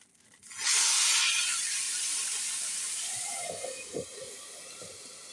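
An entrecôte steak hits a hot pan with a sudden loud hiss that settles into a steady, bright sizzle, with a few faint knocks near the end.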